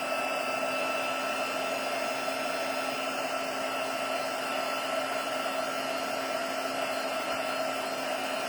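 A handheld craft heat tool blows over a card to dry ink, producing a continuous, loud, steady fan whine and airflow hiss with no pauses or talking.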